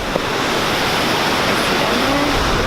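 A waterfall in New Brunswick on an icy day roars with a dense, steady rushing wash, loud and close, with no voices over it.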